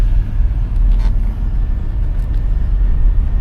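A 1997 Chevrolet Tahoe engine idles quietly: a steady, even low rumble with no belt squeal, heard close up throughout.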